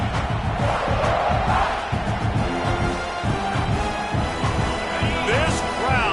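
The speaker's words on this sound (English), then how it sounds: "This crowd, full throat, splitting the eardrums and letting them know it's going to be a long day." Packed stadium crowd at a college football game roaring at full throat, a dense, loud, continuous wall of cheering and yelling that never lets up.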